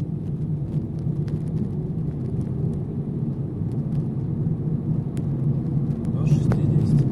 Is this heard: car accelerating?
yes